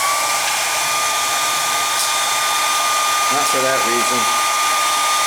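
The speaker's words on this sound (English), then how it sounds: "put my dryer to use" Hair dryer blowing steadily over a watercolor still-life painting on paper, a constant loud whir with a whining tone, while a person briefly speaks over it near the end.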